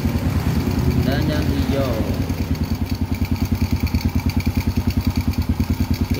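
A motorcycle engine idles close by with a steady, rapid low putter while someone talks over it during a charging-system voltage check.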